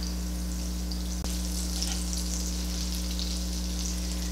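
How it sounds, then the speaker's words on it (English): Butter sizzling in a frying pan for stuffed portobello mushroom caps, a steady crackling hiss over a constant low hum, with one brief tap partway through. "I'm going to add about a tablespoon of butter."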